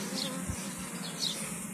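Honey bees swarm around an open hive at an apiary, a dense, steady buzz filling the air up close, with individual bees droning past now and then.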